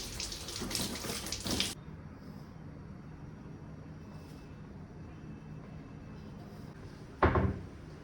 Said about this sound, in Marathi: पहिले स्वच्छ धुवून घेते.